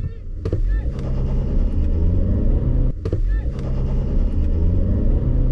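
A Chery Tiggo 7 Pro launching hard in a drag race against a Nissan Qashqai, heard from inside as a loud, sustained engine roar mixed with wind rush, with brief voice-like sounds near the start and again midway.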